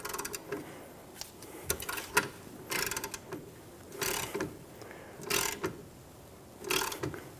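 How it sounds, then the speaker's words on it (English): Ratchet wrench worked back and forth on a rusted-through, threadless bolt while replacing a rear upper control arm on a 2010-2014 Subaru Outback: irregular bursts of metallic clicking and grinding, close and moderately quiet, with pauses between strokes. "we can just work it back and forth without putting too much torque tension on the bolt"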